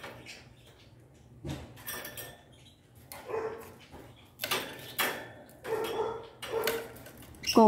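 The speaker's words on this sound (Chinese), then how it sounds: "狗叫声是从外面楼下马路上传来" A dog barks repeatedly from the street below, distant and muffled as it carries up to an upstairs home, the irregular barks separated by quiet gaps.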